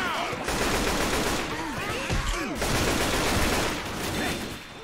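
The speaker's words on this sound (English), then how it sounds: "Stop shooting." Rapid gunfire rattles in a Left 4 Dead-style survival video game: bursts of shots and automatic fire, loud and close, with voices talking between them.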